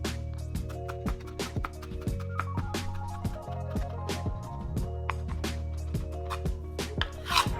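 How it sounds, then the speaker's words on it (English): A knife chops spinach strips on a cutting board in a fast, steady run of close, crisp knocks. "Now I'm gonna turn those strips 90 degrees and chop the spinach up."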